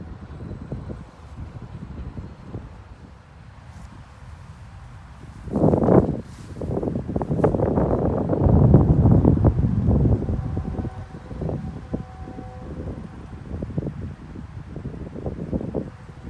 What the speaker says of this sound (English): I hope you can hear me because it is windy